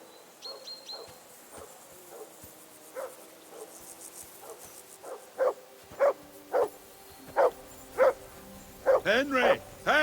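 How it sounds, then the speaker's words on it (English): A dog barks in the medieval video game Kingdom Come: Deliverance II, a string of distant yelps that grows into louder, regular barks, with a faint high whine and insect-like chirps early on. "I assume you can hear that damn dog of yours barking."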